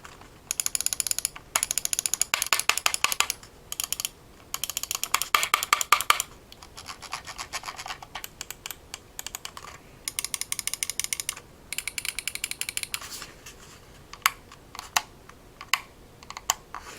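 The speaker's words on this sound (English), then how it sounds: "Here's what the mouse sounds like." Rapid bursts of Logitech G305 wireless mouse clicking in quick runs, with short pauses between, then a few isolated clicks of the power switch near the end; close and crisp, no talking.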